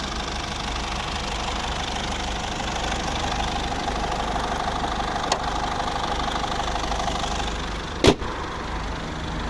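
Idling 2000 Mercedes Vito W638 passenger van with a 2.2 CDI diesel engine and automatic gearbox, a steady, even mid-pitched engine rumble running throughout, with one faint click and a brief sharp knock near the end, no talking.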